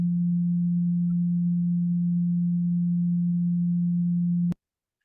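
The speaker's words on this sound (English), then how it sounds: "the 174 hertz Solfeggio frequency is for relieving pain and stress and helping enhance concentration" A pure 174 hertz Solfeggio sine tone holds at a steady, even level for several seconds, then cuts off abruptly with a small click, leaving silence.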